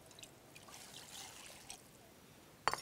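A bowl of water trickles into a soup pot of beef and coconut juice, a soft, faint pouring and dribbling that runs steadily, followed by a short, sharp clatter at the end.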